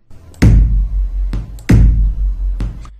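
Two deep, booming synthesized sub kicks, each a sharp click followed by a long low rumble that sustains until the next hit, with no voices.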